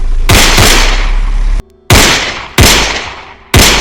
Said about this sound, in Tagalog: sunod-sunod na putok ang narinig